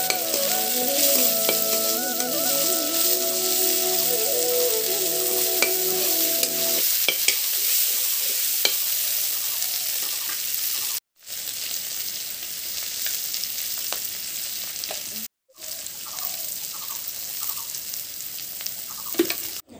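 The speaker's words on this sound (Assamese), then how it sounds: "এতিয়া মই যিখিনি লোকেল মাছৰ পেটু আছিলে সেইখিনি অকণমান ভাজি ল'ম" Local fish belly and head sputter in hot oil, a loud continuous close sizzle with stirring scrapes and a few abrupt short dropouts. A faint tonal whine runs through the first several seconds.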